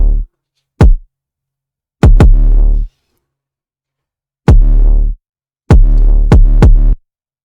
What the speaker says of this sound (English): So that's a big kick. That sounds big and nasty and dirty.